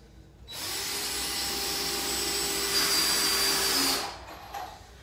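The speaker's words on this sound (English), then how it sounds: "So I'm just screwing these brackets down, securing these pallets to each other so they don't pull apart." A power drill drives screws to fasten brackets onto wooden pallets, one sustained whirring run of about three and a half seconds that rises slightly in pitch near the end before stopping, with no talking.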